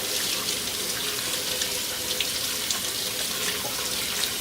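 A pork shoulder being washed under a running tap makes a steady close splashing of water, with faint bursts as the flow strikes the meat.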